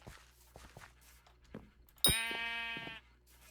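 A single sheep bleats loudly in the Minecraft SkyBlock game, a sustained nasal cry lasting about a second, preceded by soft footstep clicks.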